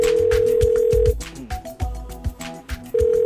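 Telephone dial tone and ringing for a call placed on a Bhojpuri television game show, a steady tone broken by ring bursts and dialing beeps, loud and clear with no talk over it.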